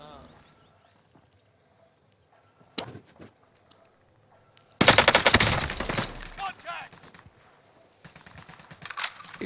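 Other players fire guns in Call of Duty: Modern Warfare. A short burst comes first, then a loud, sustained automatic volley, and more shots rattle near the end, with quieter gaps between them.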